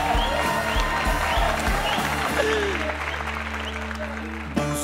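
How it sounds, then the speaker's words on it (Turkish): A big crowd applauds as actor Celasun Kubilay Aka is welcomed onstage at the Çukur finale gala, continuous clapping over a low hum of music, ending with a sharp thump. "Büyük alkışlarla"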